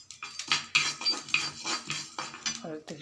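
Coriander seeds are dry-roasted in a metal pan, rattling and clinking as a spatula stirs and scrapes them in quick irregular bursts, close and fairly loud.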